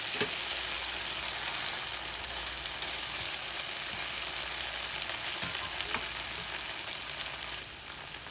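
Garlic frying in a pan as a steady, even sizzle that holds at moderate volume throughout, close and alone, with no talk.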